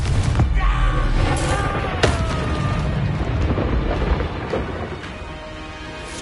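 Confringo fire explosion spell in the Hogwarts Legacy video game, sharp close blasts and popping bursts over a dense rumbling background of combat effects.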